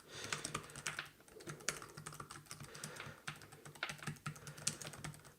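Fingers type on a computer keyboard in quick, uneven bursts of clicking keystrokes, close and fairly quiet, with brief pauses between runs.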